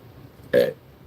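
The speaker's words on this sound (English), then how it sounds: "I just burped on live stream." One short, close burp rises briefly out of quiet room background, with no other voices.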